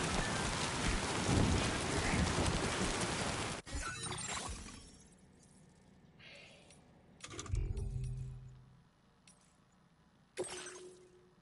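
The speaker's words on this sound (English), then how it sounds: "Looks like the timefall's been pretty relentless." Heavy timefall rain in the video game Death Stranding II hisses loudly and steadily, then cuts off abruptly into quieter game sounds with a few sharp bursts and low thumps.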